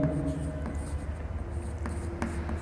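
Pen or marker writing out a maths equation for a differential equations lesson, a soft steady scratching and rubbing close by, with short strokes and faint room tone.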